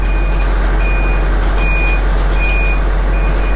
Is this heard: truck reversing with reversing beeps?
yes